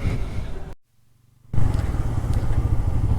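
A motorcycle rides along the Marine Drive coastal road near Cox's Bazar, its engine droning steadily and close, cutting out briefly to near silence before returning loud and rough.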